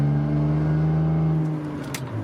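A car accelerating smoothly while driving, with freshly reworked exhaust and diffusers removed, gives a steady low engine hum that eases off slightly near the end, close and continuous without talk.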